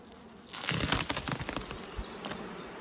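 Honey bees buzz close by at a hive in a busy hum, with crackling, rustling handling noises breaking in over the droning.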